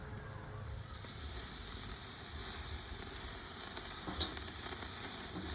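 Maple bacon sausages sear on a hot grill with a steady, close, crackling sizzle that holds at even loudness throughout, with no talking.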